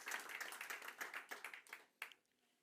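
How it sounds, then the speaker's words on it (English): Applause from a conference audience after a presentation on enterprise and government blockchain adoption, a dense patter of clapping that thins out with a final few claps near the end. "First of all, a round of applause."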